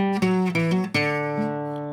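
Acoustic guitar picking a short melodic phrase, a few plucked notes and hammer-ons ringing clearly, the last note left to sustain and decay alone.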